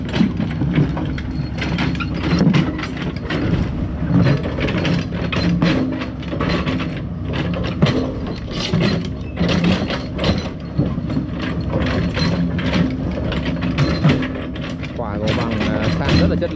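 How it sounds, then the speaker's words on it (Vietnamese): An excavator levels a stone road deep in the mountains, with a steady mechanical rumble and repeated clanking and scraping of rock throughout, and a person talking over it. "Cái đường này thì máy sẽ san thẳng ra"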